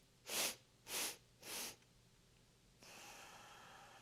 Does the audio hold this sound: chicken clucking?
no